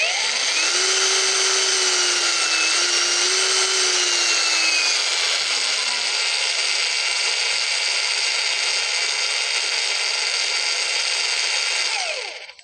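A Sansi cordless angle grinder spins at its lowest speed setting, a steady high whine with a faint shifting tone, running alone until it cuts off and winds down at the end.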